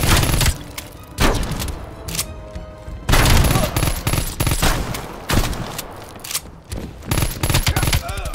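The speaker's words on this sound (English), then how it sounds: "Let that grenade go off." A grenade goes off in the PC video game Call of Duty: Black Ops Cold War amid heavy gunfire, with sharp loud bursts and booms arriving in irregular clusters over several seconds.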